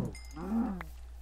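A cow in the Minecraft video game gives a single short, low moo in the middle of a quiet moment, close and clear with no talking over it.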